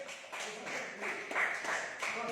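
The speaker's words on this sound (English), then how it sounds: "Clap" Scattered spectators clap at a Kyokushin karate fight, several uneven bursts of hand claps at moderate distance, with voices talking nearby.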